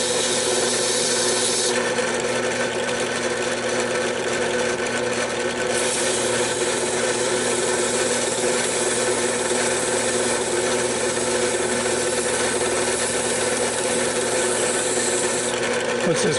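A hand file rasps against the metal of a 1993 Sonoma 2.5 Iron Duke engine part in a garage, a steady, close, gritty scraping in continuous strokes.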